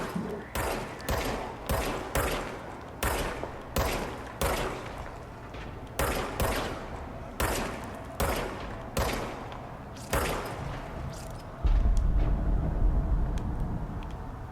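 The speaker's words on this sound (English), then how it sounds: "Now I have a gun." Gunfire from a weapon in the video game Control rings out as about a dozen loud, sharp shots in an uneven rhythm, each with a short decaying tail, before a low rumbling roar takes over at the end.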